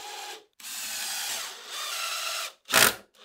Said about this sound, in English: the glue dried on the base, and I can get it tipped over and drive in some 2-inch screws